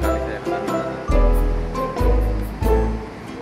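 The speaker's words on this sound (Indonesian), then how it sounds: "Aku sudah sampai santai di pantai." Ocean waves roll onto the sand at Wedi Ombo beach, with a steady surf wash and heavier breaking surges every second or so, loud and close.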